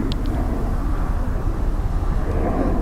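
A business jet at Dublin Airport during a go-around, heard as a steady, broad, distant engine roar that stays constant throughout, with no talk.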